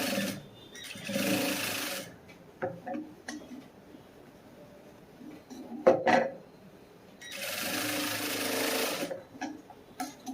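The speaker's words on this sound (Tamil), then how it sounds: "மீதியை ஃபுல்லாக உள்ளே மடக்கிட்டு இப்படி தையல் போட்டுக்கணும்" A sewing machine stitches the folded front part of a cross-cut blouse in two distinct bursts of steady whirring, separated by quieter handling noises and a few sharp clicks.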